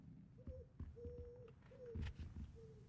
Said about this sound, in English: I hear an owl. Or a pigeon. Some bird.